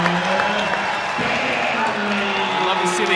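Cheering and applause from a crowd in a gym at a high school boys basketball game between Summit and Ridgeview, a steady roar under a commentator's talk.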